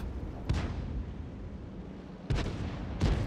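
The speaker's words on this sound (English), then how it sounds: "this guy's probably going to be a good one to fire a next shell at" Tank cannon shots in the World of Tanks game: three deep, booming blasts with rumbling tails over a steady low engine drone, the last two close together, with no voices.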